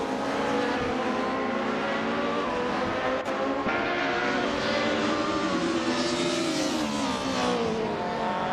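Race cars roar through a racing video game, engines screaming at high revs with pitch sweeps as they jostle close together, a continuous loud mechanical drone with a brief sharp transient midway.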